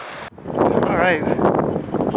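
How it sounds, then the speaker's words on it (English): A loud gust of wind buffets the microphone in a mountain meadow in the Hunter-Fryingpan Wilderness, Colorado, a rough rushing roar lasting about two seconds, with a muffled voice faintly underneath. "Sorry about the gust of wind."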